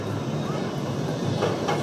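Empty roller coaster trains rolling out along the track at an amusement park, a continuous rumbling, clattering wheel noise with faint crowd chatter mixed in.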